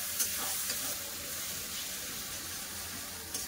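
Tomato paste goes into a hot pan and sizzles with a steady, fairly faint hiss and a few small pops, without any talking.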